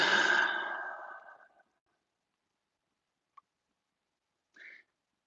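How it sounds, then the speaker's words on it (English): A single long, airy exhalation fades out over about a second and a half, followed by silence with a couple of faint tiny clicks, close and quiet. "Take a deep breath."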